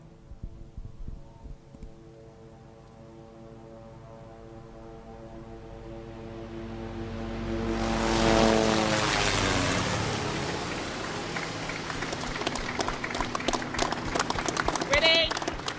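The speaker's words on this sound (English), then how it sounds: "Turn your attention to the sky as we have a Phoenix Air flyover." Phoenix Air aircraft flying over an outdoor public safety training center ribbon-cutting ceremony, a jet roar building to a loud peak midway and then fading, with a steady tonal hum beforehand and crowd noise.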